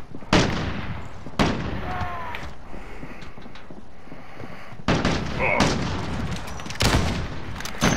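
Sharp, loud gunshots from an AX-50 sniper rifle in Modern Warfare, played against bots, crack out separately several times amid other battle noise.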